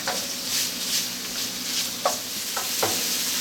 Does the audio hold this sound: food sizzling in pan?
yes